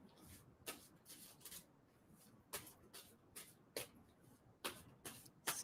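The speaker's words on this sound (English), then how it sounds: "And tell me to stop shuffling." A deck of tarot cards is shuffled close by in repeated quick riffling bursts separated by short pauses, quiet and soft overall.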